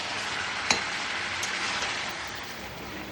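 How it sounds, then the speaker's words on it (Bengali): Chicken pieces frying in a pan without spices while being stirred, giving a steady close sizzle with one sharp clink of a utensil early on and no talking. "আমি মশলা ছাড়া মাংসটা একটু ভাজা ভাজা করে নিলাম"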